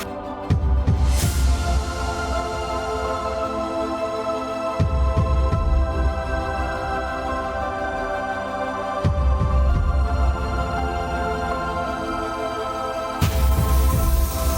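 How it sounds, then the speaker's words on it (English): An industrial laser cutting machine at work, a steady layered mechanical hum with tonal whine, punctuated by a heavy low throbbing pulse that returns in long cycles, loud and close, with no speech. "This machine is making such a complex geometry in seconds."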